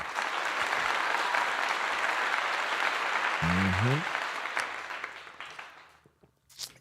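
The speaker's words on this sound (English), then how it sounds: "Round of applause for that." An audience gives a loud round of applause at a sermon gathering, a dense burst of clapping that holds steady and then fades out, with a short spoken exclamation partway through.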